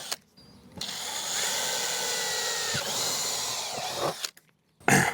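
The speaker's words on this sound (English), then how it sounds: "pre-drill holes for our lag bolts" A power drill pre-drills holes for lag bolts while a DIY mini split wall bracket is mounted, a steady whining motor run of a few seconds that stops, restarts briefly and then stops again, close and loud.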